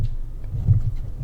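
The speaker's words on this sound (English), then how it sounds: "Can you hear this crazy wind?" Strong, gusty wind buffets the outdoors in a steady low rumble with surging blasts, loud and continuous with no voices.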